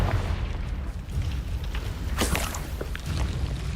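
Booming blasts from the Confringo spell in Hogwarts Legacy, a few dull low thumps with one sharper crack in the middle over a continuous rumbling game background.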